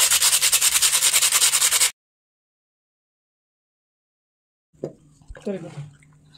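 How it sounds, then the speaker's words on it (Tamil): Sandpaper rubs rapidly and rhythmically against a clay pot's rough surface, a loud, even scraping that stops abruptly, followed by silence and then a voice speaking close by. "ஸோ நம்ம இந்த மாதிரி உப்பு காகிதத்தை வச்சு நம்ம இப்படி ஸ்மூத் பண்ணும்போது"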